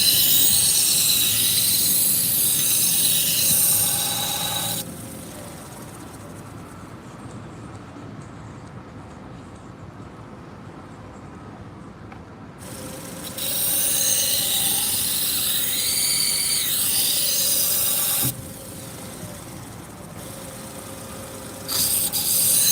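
Restaurant knives are ground on a 120 grit belt, giving a harsh, loud abrasive rasp in long passes that stop and restart, with quieter gaps of motor hum between.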